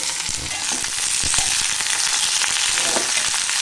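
Ivy gourd pieces fry in a pan with a steady, close sizzle, broken up by scraping stirs and small clacks of a spoon.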